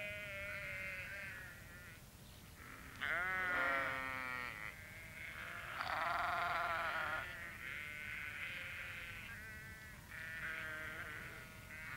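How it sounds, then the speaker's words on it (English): Several sheep bleat repeatedly in an animated children's farm scene, wavering calls rising and overlapping at moderate loudness, with brief pauses between bursts and no talking. "The sheep were glad to see them."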